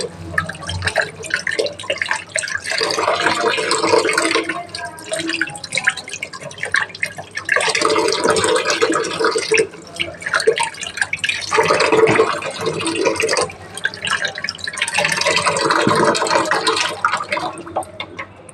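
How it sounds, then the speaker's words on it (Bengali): Tomato, carrot and cucumber are washed under running tap water, giving splashing, trickling flow in several bursts separated by quieter gaps, close by and without talk. "একটা টমেটো, গাজর, শসা ভালো করে ধুয়ে নেবো"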